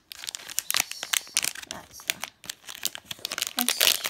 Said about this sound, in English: I'm going to be opening up two hanger packs of Stadium Club.